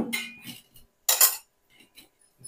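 A metal vessel clinks and scrapes in a few sharp, close bursts while homemade hair oil is transferred into another container, with quiet gaps between the knocks.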